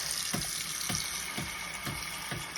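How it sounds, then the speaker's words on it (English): Water pours steadily into a pot of lentils and spinach being cooked, a continuous faucet-like stream with soft rhythmic pulses about every half second, close and moderately loud with no talking. "And we're going to add some water,"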